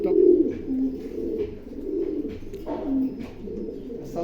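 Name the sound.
racing pigeon cooing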